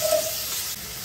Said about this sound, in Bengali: 5 মিনিটের মতন ভেজে নেব